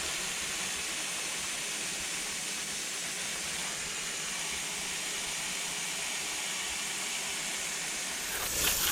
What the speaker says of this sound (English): Okay, let's hose this thing off.